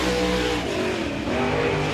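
A race car screaming past at speed during qualifying at Thunderhill Raceway, its engine note loud and steady as it climbs the high groove out of turn four.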